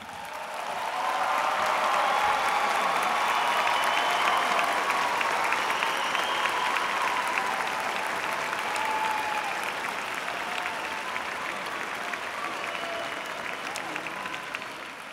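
Graduation audience at a high school ceremony breaking into sustained applause, a dense, even wash of clapping from a large crowd that holds steady for about fifteen seconds before slowly easing.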